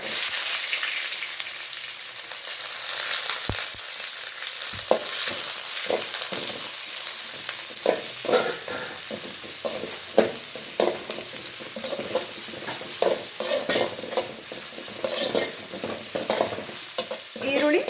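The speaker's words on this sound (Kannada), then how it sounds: "ಸ್ವಲ್ಪ ಫ್ರೈ ಆಗಲಿ ಸ್ವಲ್ಪ ಎಣ್ಣೆನಲ್ಲಿ ಸಾಫ್ಟ್ ಆದರೆ ಸಾಕು" Green chillies, onion and curry leaves fry in oil over a mustard-seed tempering, a close, bright sizzle broken by repeated scraping and stirring clicks from a utensil, with no talking.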